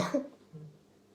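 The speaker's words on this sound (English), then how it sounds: "Well, I had to cough." A single short cough bursts out at the start, followed by a fainter throaty echo of it, then quiet.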